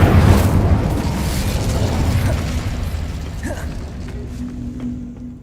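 An explosive burst from the Confringo spell in the video game Hogwarts Legacy, loud and rumbling at the start and then fading into a long, gradually dying roar over about five seconds, with no talking.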